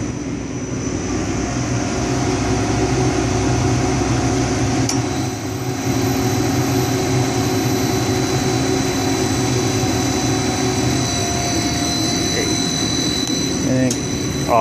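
A pump motor driven by a VFD runs steadily and loudly, a continuous drone with a high electrical whine and hum that holds without a break throughout.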